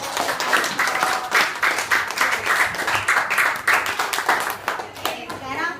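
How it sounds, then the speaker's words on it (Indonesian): Schoolchildren in a classroom clap their hands together after a group presents their experiment on cone and cylinder volume, a lively, uneven patter of many hands with some voices mixed in. "Oke, tepuk tangan dulu."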